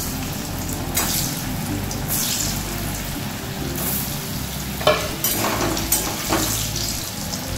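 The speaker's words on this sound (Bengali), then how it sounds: "তেল গরম হয়ে গেছে, এবার আমি পটলগুলো ছেড়ে দিচ্ছি।" Spice-coated pointed gourd (potol) pieces hit hot oil, giving a loud, continuous close sizzle with a few bursts of crackle and scraping as they settle, no talking.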